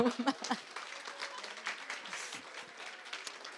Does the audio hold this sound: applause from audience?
yes